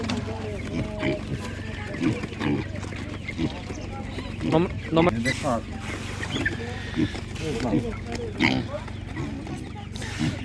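Piglets grunt and squeal in short bursts amid a busy animal market background, with people talking nearby.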